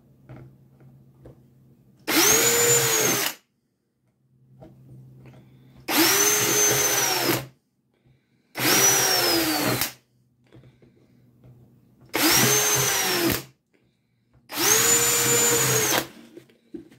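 Power drill boring holes into small pots in five separate bursts of a few seconds each, loud and close, with quiet pauses between and no talking.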